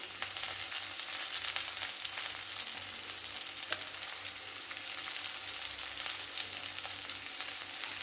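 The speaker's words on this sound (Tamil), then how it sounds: "வெங்காயம் வதங்கட்டும்" Onions sautéing in oil for an oil-roasted masala brinjal curry, a steady soft sizzle with light crackling and occasional stirring scrapes, close and continuous with no talking.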